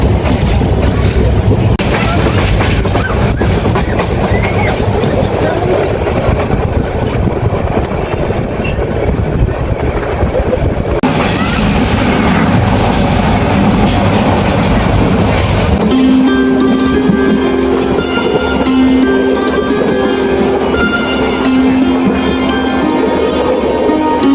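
Cox's Bazar Express passenger train in motion: a loud, continuous rumble and rattle of the carriages throughout, shifting midway into a steadier tone with a sustained humming note over the running noise.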